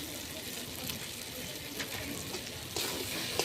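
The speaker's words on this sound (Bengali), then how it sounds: "ভালো করে আলুগুলি মশলার সাথে ভেজে নেব" Potatoes fry with spices in hot oil, giving a loud, steady sizzle throughout, with faint stirring scrapes now and then.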